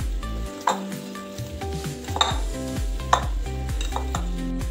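Potato patty dough mixed with ajwain in a bowl: soft rhythmic scraping and thumps close by, with a few sharper clinks, over a steady low hum. No voices.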